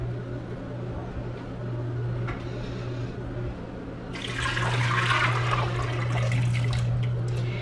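Water pours steadily into a pressure cooker of chickpeas, a gushing, splashing flow that swells louder partway through over a low constant hum.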